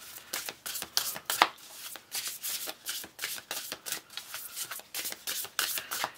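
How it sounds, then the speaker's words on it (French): Small paper notes rustle and shuffle inside a box as it is opened, a close run of quick crisp papery bursts in a steady rhythm, with no one talking. "Je vais ouvrir la boîte des petits mots."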